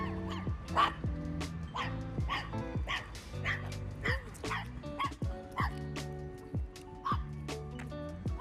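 A dog barks and yips repeatedly in quick, uneven bursts, close and fairly loud, with some whimpering tones between barks and no speech.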